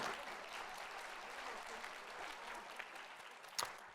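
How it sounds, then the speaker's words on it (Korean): A congregation in a Korean church service claps together in a soft, steady patter of applause heard from a distance, with a sharper clap or knock near the end. "박수 한번 해야 되는 거 아니에요?"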